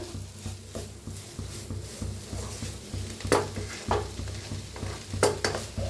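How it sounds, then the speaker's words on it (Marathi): Raw onion stir-fried and roasted in a pan: a continuous crackling sizzle with rhythmic scraping strokes of a spatula and a few sharper knocks against the metal, close and fairly loud. "छान असं हलवत भाजत राहायचं, म्हणजे कांदा कच्चा घेतलेला आहे ना, छान असा भाजला जातो"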